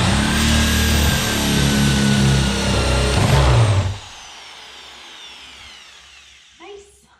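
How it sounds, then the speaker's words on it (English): Power drill boring through wood during electrical prep on an off-grid tiny house cabin build, a loud whining grind for about four seconds that stops abruptly as the bit breaks through, followed by quiet rustling and a faint knock. "let the drill bit do the work"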